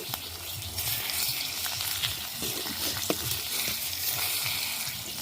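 Food fries in a pan, a continuous moderate sizzle with scattered crackles and pops and soft stirring scrapes throughout.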